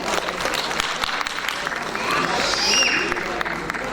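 Audience applause at an award ceremony for literary honorees, a steady wash of clapping from a large crowd that swells slightly toward the end, with some voices mixed in.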